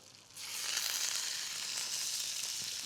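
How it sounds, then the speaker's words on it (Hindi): Dumplings searing in hot oil in a pan with herbs added, a steady close sizzle that jumps up sharply after a quiet start and holds evenly to the end. "dumplings को अच्छे से sear कर लेंगे हम"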